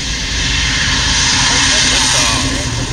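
SpaceX Falcon rocket igniting for the CRS-24 Cargo Dragon launch to the International Space Station, a loud sustained broadband roar filling the scene steadily, with a voice faintly under it.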